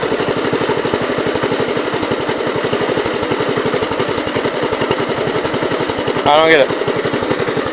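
A 1970 Gravely 408 tractor engine idling loud and close, a rapid steady chugging putter throughout, with someone briefly speaking over it near the end.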